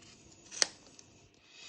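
A single sharp snip from cutting something during a service of a vapourising oil AGA cooker, brief and close, standing alone against a quiet background.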